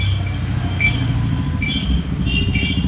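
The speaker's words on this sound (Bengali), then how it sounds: "আমি এখন অটোয় আছি" Auto-rickshaw ride heard from inside, a continuous low engine drone and road rumble with faint higher whines, no talking.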